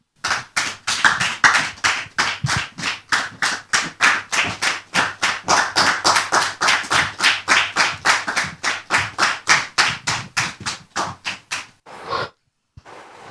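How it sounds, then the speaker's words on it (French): An audience welcomes a guest with loud, steady clapping in unison, around forty evenly spaced claps in a fast rhythm, then a brief pause and a few scattered final claps. "je vous demande de la recevoir ici et maintenant sous vos applaudissements"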